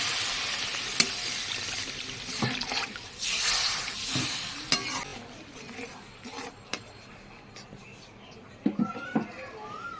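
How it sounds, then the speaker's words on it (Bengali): Water poured into spice masala frying in a pan at home, a broad hissing sizzle that swells and fades over several seconds, with scattered clinks and stirring noises. "এখন কিছুটা জল দিয়ে দেবো"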